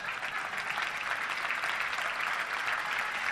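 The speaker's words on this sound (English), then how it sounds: "Let's give them a round of applause." A room of guests at a touchdown club gathering applauds in a steady, even wash of clapping, moderately loud and unbroken.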